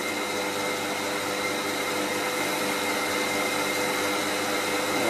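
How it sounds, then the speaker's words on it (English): Metal lathe running with its threading gears disengaged, fitted with a tired tungsten carbide tip: a loud, steady machine whir holds constant throughout with no talk. "The threading gears out of gear makes the lathe a bit quieter."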